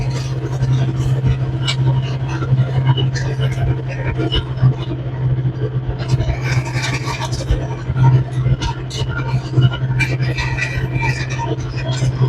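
Mechmaxx landscape rake dragging old gravel along a driveway: a constant low engine drone with intermittent crunching, scraping bursts of stones throughout.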